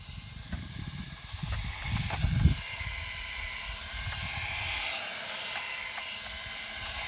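HBX 2188A 1/18 scale RC gymkhana drift car run at full throttle, giving a thin high-pitched electric motor whine that holds steady throughout, with low rumbling handling noise and a bump partway through.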